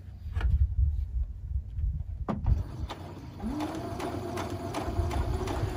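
A sewing machine stitches fabric for a carrot-shaped drawstring treat bag, running slowly with a faint, even motor hum and soft regular needle ticks in a quiet room.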